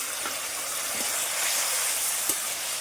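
Bitter gourd curry sizzles and hisses steadily in a frying pan after a small splash of water is added, a broad continuous steamy hiss with a few faint pops, heard close with no talk.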